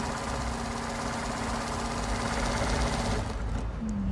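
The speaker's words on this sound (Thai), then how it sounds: "อันนี้คือเย็บหนาเป็นผ้าหนาสี่ชั้นนะคะ" A Baoyu BML-20U53D-190 direct-drive zigzag sewing machine stitches through four stacked layers of fabric, giving a steady, fast mechanical whir and rattle with no speech.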